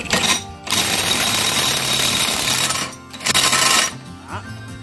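A cheap fake Makita 880Nm brushless cordless impact wrench runs in loud, rapid rattling hammer bursts, stopping briefly and then starting again, close up and with no other sound over it.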